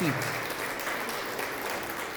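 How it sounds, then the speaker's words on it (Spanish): A congregation in church gives a strong round of applause on a morning service, a dense, continuous clapping with voices mixed in. "dale un fuerte aplauso al Señor esta mañana"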